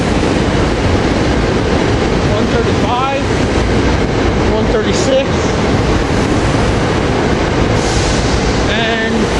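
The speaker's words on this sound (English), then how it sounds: "train 768 to Chesterfield East leaving with rail cars 294," Commuter train 768 departing a station at rush hour, a loud steady roar of rolling rail cars with brief squeals, as a nearby voice counts numbers over the noise.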